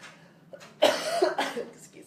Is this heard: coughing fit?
yes